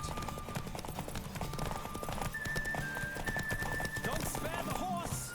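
A horse galloping at full speed in the video game The Witcher 3: rapid, rhythmic hoofbeats that carry on throughout, with a whinny, a voice speaking over them, and sustained musical tones.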